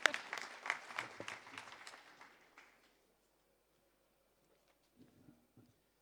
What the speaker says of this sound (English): I think give us a round of applause.